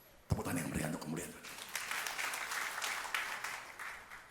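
Applause from a church congregation during a sermon begins suddenly and carries on as steady, moderately loud clapping; a voice speaks over the opening moments.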